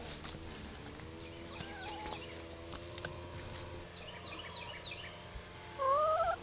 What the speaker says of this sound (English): The chickens will eat the apples.